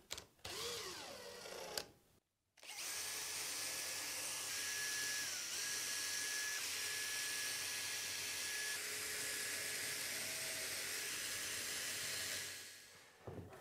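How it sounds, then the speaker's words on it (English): A small hand drill whines steadily at high pitch for several seconds while drilling leather, a thin constant buzz with slight pitch wobbles, stopping near the end. "little hand drill, then that's gonna make life so much easier"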